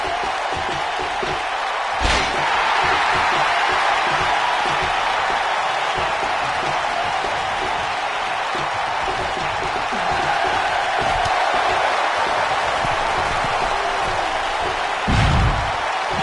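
A loud arena crowd roars and cheers continuously in WWE 2K19 wrestling gameplay, with a couple of thuds from the ring and a commentator's voice faintly underneath.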